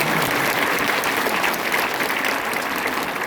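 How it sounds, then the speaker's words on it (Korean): A church congregation claps together in a dense, continuous wash of applause that holds at an even level throughout, with no speech on top. "자, 우리 박수하겠습니다."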